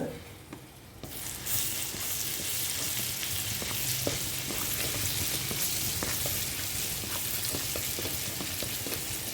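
Crushed garlic cloves hit hot oil in a pan for paneer chicken rice, a sudden burst of sizzling that settles into steady loud frying with occasional stirring clicks, no speech.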